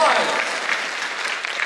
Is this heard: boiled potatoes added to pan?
no